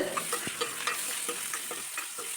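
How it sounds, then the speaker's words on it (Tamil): Onions sizzle and crackle steadily in a hot pan while being sautéed for a village-style tamarind rice-water stew, a dense frying hiss with small pops scattered throughout and no talking. "வெங்காயம் சேர்த்துட்டு நல்லா வதக்கிவிடுங்க"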